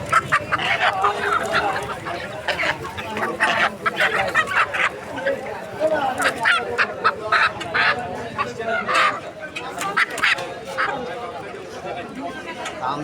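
Chickens and ducks at a crowded poultry market cluck and squawk in busy, overlapping calls, with people talking and bargaining continuously over them.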